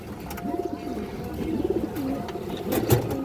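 Lal Chulli pigeons coo close by in repeated rising-and-falling warbles, three or four rounded calls over a steady low background hum, with faint clicks and no clear speech.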